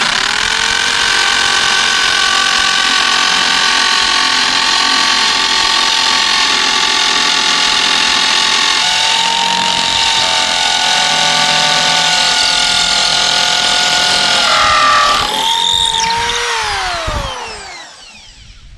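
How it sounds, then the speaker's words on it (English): A power drill fitted with a masonry bit bores down through wood into concrete slab, a loud steady whine held for about fifteen seconds before winding down and stopping, with no talk. "I'm just drilling it down with the masonry bit right through the wood"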